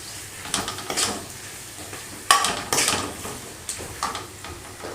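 Potatoes and onions with spices fry in a pan, a soft sizzle under repeated scraping stirs of a utensil against the metal, with no talk.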